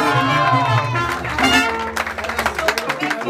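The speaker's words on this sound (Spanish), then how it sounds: "El aplauso" Crowd applause breaks out at a quinceañera serenade with a mariachi band, clapping building after a stretch of music and talk, rapid and fairly close with voices mixed in.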